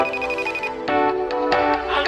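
Phone ringtone for an incoming call plays as a melodic electronic tune, loud and close, with bright repeating notes over a sustained backing and no talk.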